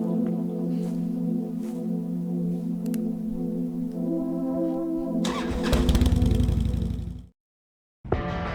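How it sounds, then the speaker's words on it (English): In the video game Kathy Rain, a boat engine idles with a steady low hum, then starts up into a louder rough surge, cuts to brief silence and resumes. "Guess I'll have to rely on that engine to get around."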